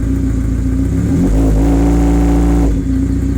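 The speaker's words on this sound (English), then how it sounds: "I think it sounds actually really good once it's high rev." A 1985 Honda Nighthawk CB700SC motorcycle engine idles in neutral, then revs up loudly and holds at high pitch for over a second before dropping back to idle.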